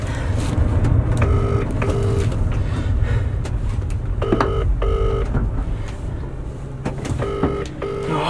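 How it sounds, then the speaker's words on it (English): Phone dialing tones sound in short repeated bursts of beeps, in several groups spread across the stretch, over a steady rumbling background inside a moving van. "I'm gonna call Harvey."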